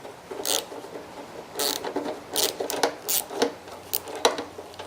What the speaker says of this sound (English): we should be able to get this off pretty easily with our universal joint